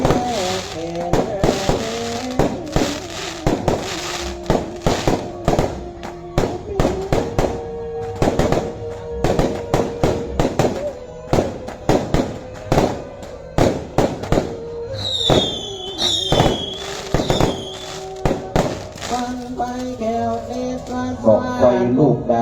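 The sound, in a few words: bung fai rockets launched at Lanna festival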